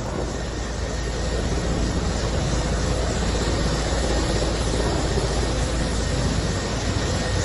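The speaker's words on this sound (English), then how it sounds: "Hasina was seen taking off in a helicopter from Dhaka." A helicopter takes off from Dhaka, heard as a loud, unbroken roar of rotor and engine noise that holds steady throughout, with no voices.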